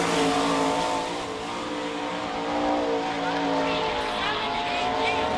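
A sprint car on the Sarver, Pennsylvania speedway during qualifying at the All Star Circuit of Champions Bauman Memorial drones steadily, its engine pitch rising and falling through the lap, with crowd and announcer sound faint underneath.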